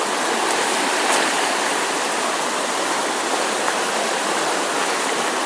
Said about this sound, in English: That water was ripping.